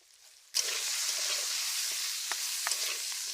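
After a quiet start, chopped onions and green chillies drop into hot oil tempered with panch phoron in a village kitchen, bursting into a sudden loud sizzle that holds steady with scattered pops.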